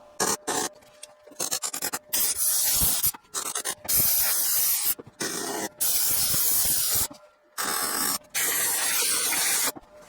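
Water or coolant sprays in repeated loud hissing bursts onto a hot, freshly welded metal tube in a car workshop, the bursts separated by short pauses.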